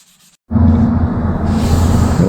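Block sanding on a car body dent repair, a loud, steady abrasive rasp that starts abruptly after a brief quiet moment and continues without break, growing slightly brighter partway through.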